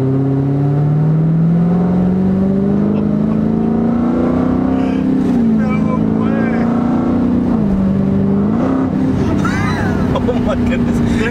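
A Dodge Hellcat car engine revving hard under throttle, a loud, close, rising drone that climbs in pitch, dips briefly twice and surges again, with excited voices talking over it.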